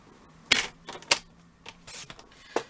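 Paper trimmer slicing cardstock for a stamping craft project, a few sharp close snaps and slides spread over a quiet workspace, with small handling noises between cuts.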